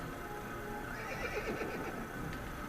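A horse whinnies in the Assassin's Creed video game, a drawn-out wavering neigh over a steady ambient bed, with faint hoof clops mixed in.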